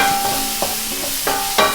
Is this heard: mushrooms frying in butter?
yes